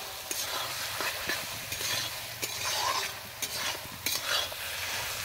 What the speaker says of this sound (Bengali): এখন আলুটা দিয়ে আরো ভালোভাবে কষাবো